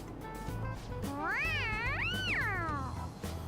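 A cat in the video game Persona 5 gives one long, rising and falling meow over a low background music loop, close and clear with no talk over it.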